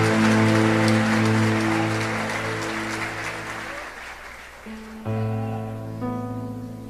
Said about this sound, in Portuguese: dando a Jesus uma linda salva de palmas